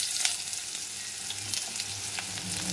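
Potato pieces lightly frying in oil, with green chilli already tempered in the pan: a steady, moderately loud crackling sizzle with a few brief sharper pops, continuous and close, with no talking.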